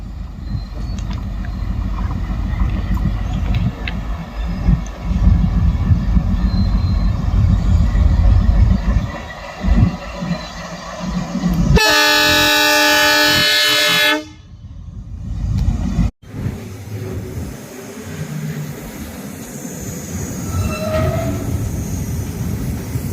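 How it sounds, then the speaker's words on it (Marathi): A passenger train runs on the Ahmednagar–Beed railway line, its loud rumble and clatter rolling past nearby, broken by a long sustained horn blast midway before the passing rumble continues. "माझ्या पाठीमागं जे ट्रेन आहे ही लाईव्ह आपल्या बीडच्या दिशेने मार्गस्थ होत आहे"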